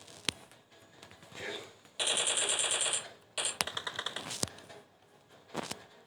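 Rapid automatic gunfire from a bot in a video game, bursts of fast crackling shots mixed with single sharp cracks, some bursts close and loud.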